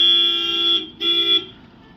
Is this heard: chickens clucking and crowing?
no